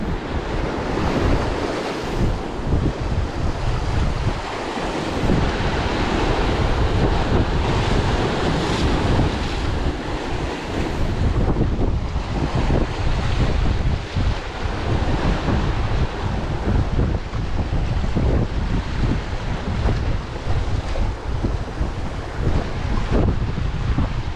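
Strong wind buffets the microphone on a beach during a fishing outing, a constant loud roar blended with crashing surf that swells and eases without pause and has no voices over it.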